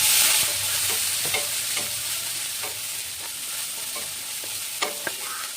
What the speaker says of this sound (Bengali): গরম হয়ে গেলে পেঁয়াজ কুচি দিয়ে আমরা পেঁয়াজগুলো একটু ভেজে নেব